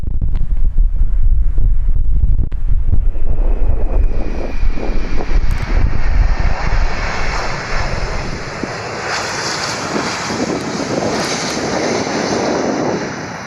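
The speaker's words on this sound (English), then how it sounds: "This Boeing 747 landing in a windy Amsterdam nearly struck its engine into the runway." Loud wind buffeting with a deep rumble, giving way to a steady high jet engine whine as a Boeing 747 passes, landing in strong wind at Amsterdam.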